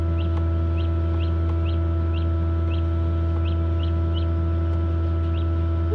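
A newly hatching chick peeps steadily in short, evenly spaced chirps inside a Genesis Hovabator 1588 egg incubator, its small cries sitting over a constant loud fan-like hum and drone, with no voices heard.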